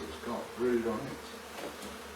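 Honey bees buzzing during removal of a colony from a chimney, a short droning hum with slight rises in pitch, heard close over faint background noise.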